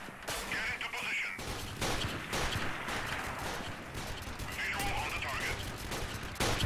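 Continuous gunfire in the shooter game Freeman: Guerrilla Warfare, dense bursts and rattling shots layered into a steady roar of battle, loud and unbroken across the whole stretch.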